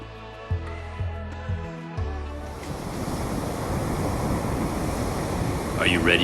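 Ocean waves washing in on a seashore: after a couple of seconds of low tonal rumble, a broad, hissing surge of water rises and holds steady, close and fairly loud, with some wind noise.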